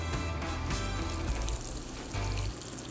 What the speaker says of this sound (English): I'm gonna finish frying these now that I think I've got a little bit of a handle on things